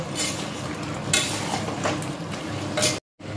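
Meat being sautéed in oil in a Bengali home kitchen until the oil separates, with a steady sizzle and scraping, stirring strokes. There is a brief cut to silence near the end.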